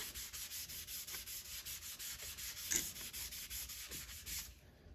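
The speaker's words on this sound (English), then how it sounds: "I'm going to take some alcohol, just some rubbing alcohol, and I'm going to clean the stock off a little bit." A cloth soaked in rubbing alcohol is rubbed back and forth over a rifle stock, giving a quiet, rhythmic series of brisk swishing strokes at close range.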